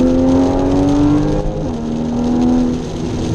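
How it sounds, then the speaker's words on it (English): A Porsche 981 Boxster GTS with its sports exhaust open drones loudly and steadily while driving, with the engine note rising and falling slightly as it cruises, heard close from inside. "And it really is all the exhaust noise."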